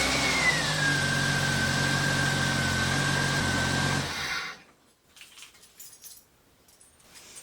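A Jeep YJ engine runs after a compression test, a close, loud idle with a whining belt or starter tone that settles, then cuts off abruptly about four seconds in, leaving faint clatter and rustling.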